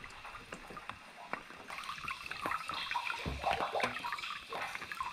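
Rainwater runs from a gutter at an off-grid cabin, a steady splashing trickle into a collection tank that swells louder partway through, heard alone.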